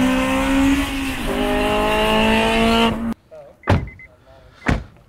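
A Honda Civic Type R on a race track, its engine droning steadily from inside the cabin with a pitch shift as it changes gear, then cutting off abruptly; afterwards come a few short bumps and clicks while people chat.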